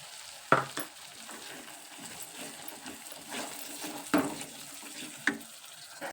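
Curd is stirred into a simmering, village-style egg gravy: a soft, steady sizzle from the pan, broken by a few sharp scraping stir strokes, all fairly quiet and close.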